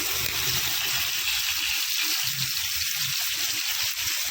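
Fish frying in coconut oil as curry leaves go into the pan, a steady close sizzle with crackling bursts throughout, no voices.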